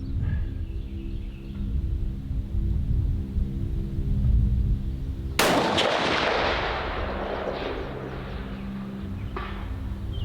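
A rifle fires a single sharp, loud shot at a 1,000-yard target, with an abrupt broadband crack that decays into a rolling echo over several seconds, against a steady low background hum.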